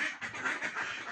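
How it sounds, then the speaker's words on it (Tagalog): A large flock of about 600 ducks on a rural farm in Alaminos, Philippines, quacking in a dense, continuous chorus that sounds close and fairly loud throughout. "Sobrang dami itik."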